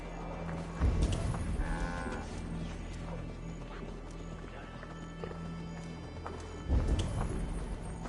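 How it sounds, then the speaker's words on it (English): In Assassin's Creed Valhalla, a horse's hooves clop and thud rhythmically at a gallop, close and moderately loud, with heavier impacts near the start and end and a brief whinny partway through. "Stop that horse!"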